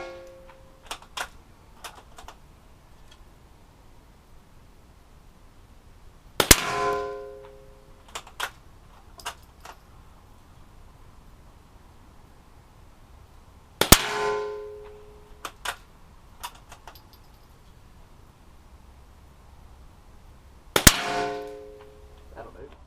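A BSA 15 air rifle firing at a metal target: three loud ringing clangs spaced several seconds apart, each decaying with a metallic ring, plus quieter clicks and small knocks in between.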